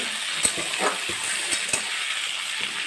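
Vegetables for Bengali shukto stir-frying in oil sizzle continuously, broken by soft irregular thumps and clinks as they are tossed and stirred in the pan.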